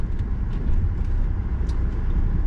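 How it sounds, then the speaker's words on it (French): A 2017 Volvo V60 D3 Momentum diesel car accelerates gently, a low steady engine drone heard from inside the cabin, moderately loud and even with no talking. "À l'accélération très légère, très léger niveau de bruit."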